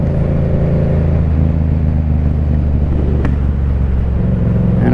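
A motorcycle is ridden on a cold January day, its engine droning loudly and steadily close by under rushing wind, with no speech.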